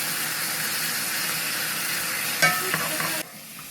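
Butter sizzles in a frying pan with a continuous close hiss, joined near the end by a few clattering knocks of a pan or utensil before the sound cuts off abruptly.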